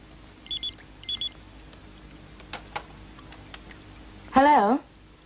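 A telephone gives two short electronic ring bursts close together early on, followed by a few faint clicks and then a brief voice near the end.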